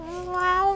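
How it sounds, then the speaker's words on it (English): A cat meows in one drawn-out, rising-then-falling call, close and clear with strong harmonics, heard alone. "He's just meowing."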